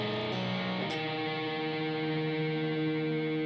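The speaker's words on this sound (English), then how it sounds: "And then following that, you're going to do your rake." Electric guitar with heavy distortion, a quick pick rake raked across the muted strings, then sustained chords ringing out loud and steady, alone with no talking.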